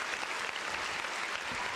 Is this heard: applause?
yes